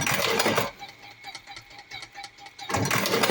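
A Karaşimşek TM Pro electric tobacco cigarette filling machine with a MOSFET board and coil runs in loud mechanical bursts at the start and end, with a quieter whirring stretch in between.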